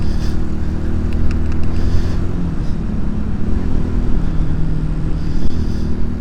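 A Honda CD200 motorcycle engine runs loud and close while riding at about 50 mph, a steady low rumble with slight rises and dips in pitch. There is no speech.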